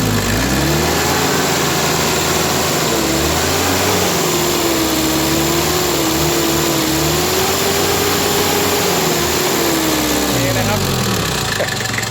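The Nissan Big-M pickup's 87-horsepower TD27 diesel engine revs up in a steady, loud rise and fall close by, someone speaking in Thai over it.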